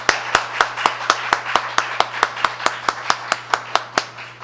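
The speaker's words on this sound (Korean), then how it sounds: "원경희 회장님을 힘찬 박수로 맞이해 주시면 감사하겠습니다" Audience at a tax-law academic conference in Korea clapping to welcome a speaker to the podium: steady, evenly spaced claps in a brisk rhythm for several seconds, with a faint electrical hum underneath.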